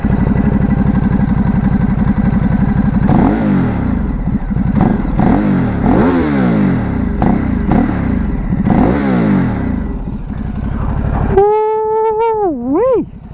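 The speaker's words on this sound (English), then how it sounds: "Now that, ladies and gentlemen, is what a bike should sound like stock." A stock 2017 Ducati Supersport engine is revved hard and close, repeatedly rising and falling in loud throaty sweeps, before a rising whine near the end.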